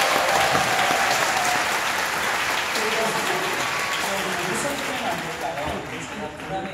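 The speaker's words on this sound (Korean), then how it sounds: "다시 한번 우리 이사님께 박수 한번 부탁드리겠습니다." An audience applauds at an autumn church praise festival, with dense, sustained clapping that fades slightly toward the end, with voices mixed in.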